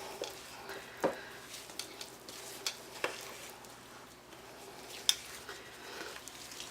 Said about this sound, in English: This is when spatulas really come in handy, when you have a thick batter like this